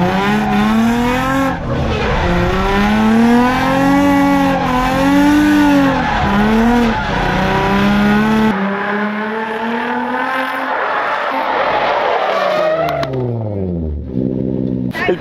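A car drifts on pavement between cones and two parked luxury cars, its engine revving hard with rising and falling pitch while the tires squeal loudly and continuously, then the engine drops away as the slide ends.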